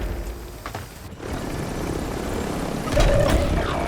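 A helicopter in a video game whirs and drones steadily with a loud rotor wash that swells slightly near the end, heard alone without talk.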